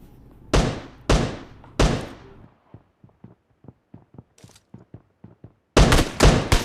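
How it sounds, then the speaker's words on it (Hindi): Gunfire in a mobile battle royale game, with three loud shots up front, a run of quicker, fainter pops in the middle and another burst of heavy shots at the end. "अभी देखिएगा यहाँ पे एक बोट फायर करेगा इधर लेफ्ट साइड से।"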